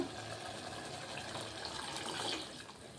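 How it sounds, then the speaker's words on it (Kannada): A soft steady gush of water being poured into a pot of boiling masala, fairly quiet and continuous with no talking. "ಈಗ ನೀರು ಸೇರಿಸ್ಕೊತಾ ಇದ್ದೀನಿ ನಾನು"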